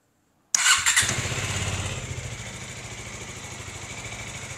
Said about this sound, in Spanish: Prendemos la moto.